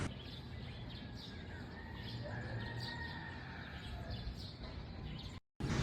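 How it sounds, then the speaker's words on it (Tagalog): Soft bird chirps and tweets repeat outdoors over a low steady background hum, faint and somewhat distant, ending with a brief cut of silence. "yung naririnig mo lang yung mga huni ng ibon"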